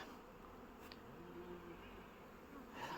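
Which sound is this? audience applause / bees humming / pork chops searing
bees humming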